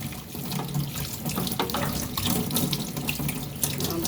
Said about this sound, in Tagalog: nilagay lang yung kanin dyan. So, hugasan ko uli yan.